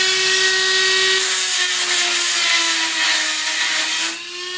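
A loud, steady power tool whines continuously up close while cleaning the corners of a metal weld, its pitch sagging slightly before easing off at the end.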